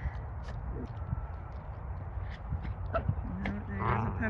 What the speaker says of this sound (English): Oh, there's a puppy again.